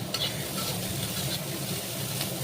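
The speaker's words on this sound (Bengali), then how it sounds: "ভাজা হচ্ছে এই পেঁয়াজ ভাজা হচ্ছে" Onions frying in a pan, a dense continuous sizzle with light stirring scrapes, close and steady over a short stretch, with no talking.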